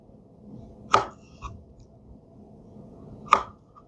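A knife chops through a plantain on a cutting board in two sharp, separate cuts, with a softer tap between them, close and clear with nobody talking.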